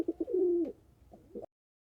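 Pigeons coo near a loft, with a few short soft notes and then a drawn-out, throaty coo, followed by quieter rolling coos and a brief final call before silence.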